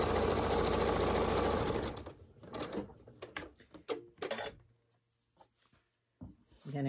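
A sewing machine stitches quilt block pieces for a disappearing nine-patch block, running loud and steady for about two seconds, then giving way to scattered handling clicks and fabric rustles, with a short burst of stitching again at the end.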